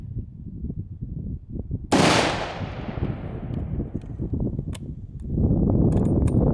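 A sharp, loud rifle shot rings out during a fallow deer hunt in Tasmania, its report decaying over a couple of seconds amid rustling outdoor background noise and handling sounds.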